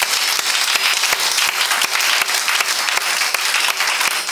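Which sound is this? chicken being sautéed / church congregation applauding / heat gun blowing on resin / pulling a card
church congregation applauding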